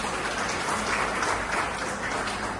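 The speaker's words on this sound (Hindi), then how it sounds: "प्रयास सेना के प्रत्येक सिपाही के और सेनापति के ऑनर में एक जोरदार तालियां हो जाए" Audience applause at a merit award ceremony honouring students, a thick, even roar of many people clapping at once, sustained at steady loudness.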